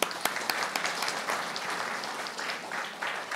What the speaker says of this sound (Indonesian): hebat. Tepuk tangan.